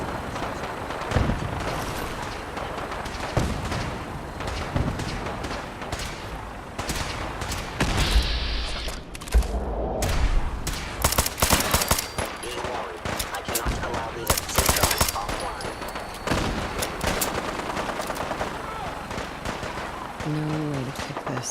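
Sustained video game battle gunfire, with dense bursts of automatic and single shots rattling throughout, loud and close, sometimes spaced and sometimes rapid, amid explosions and game noise.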